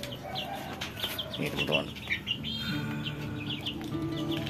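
Chickens cluck and chirp steadily while being fed a mixed feed of rice and commercial pellets, close and moderately loud, with a person talking over them.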